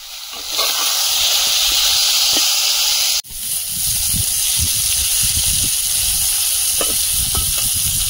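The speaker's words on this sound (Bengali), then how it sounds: "এই তেলে বেগুনটা ভেজে নেব।" Eggplant frying in hot oil in a kadai, giving a steady, loud, close sizzle with a brief drop about midway, then crackling spatters over continuous hissing.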